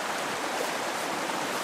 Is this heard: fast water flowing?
yes